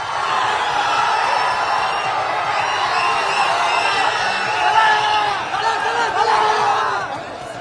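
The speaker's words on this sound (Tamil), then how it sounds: "அப்போது அங்கு காத்திருந்த ஏராளமான ரசிகர்கள் தோனியை கண்டு ஆரவாரம் செய்தனர்" A large crowd of fans cheers and shouts for cricketer MS Dhoni at Madurai airport. The excited roar stays loud and unbroken, with many voices chattering and whooping together close by.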